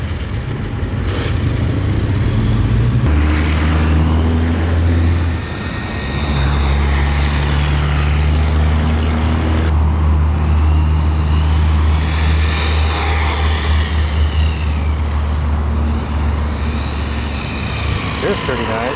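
An RC car making a speed run on dirt gives off a steady electric motor whine with a low drone beneath it. The whine rises and falls in pitch as the car speeds up and passes, with a short dip partway through.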